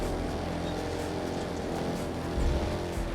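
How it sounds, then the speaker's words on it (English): A Skoda Kamiq engine runs steadily at a low, droning idle with a rumbling, choppy texture, close by and fairly loud throughout, briefly swelling near the end. "This car sounds like a helicopter engine?"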